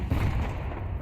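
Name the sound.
flashbang grenade thrown in FiveM video game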